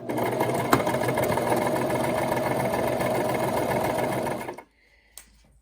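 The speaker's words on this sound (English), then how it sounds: "now it is time to sew this 1/4 inch hem." A sewing machine stitches a quarter-inch hem along fabric for a throw pillow cover, a loud steady whirring hum that runs without pause for over four seconds and then stops abruptly, followed by a faint click.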